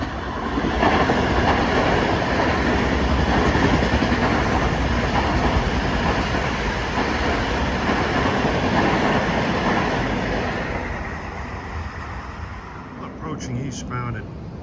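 An LIRR commuter train, the 8:27 from Long Beach to Penn, rumbles through Forest Hills station during the morning rush, a loud, continuous roar of wheels and rail clatter that gradually fades toward the end, with a brief squeal near the close.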